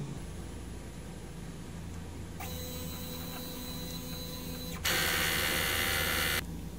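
A DTF printer runs its heat clean cycle, a steady mechanical whir that shifts into a louder tonal motor hum and then a brief harsh hissing burst before settling back down, with no talking.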